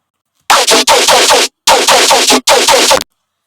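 Loud, heavily distorted Serum dubstep bass with post processing, bursting in four choppy blocks with short gaps, harsh and gritty like rapid-fire growls, no voices.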